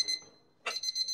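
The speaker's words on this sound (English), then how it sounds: "You hear the beep." A digital kitchen thermometer gives a series of short, high electronic beeps, faint and close, with a pause after the first beep and then a rapid run of repeated tones.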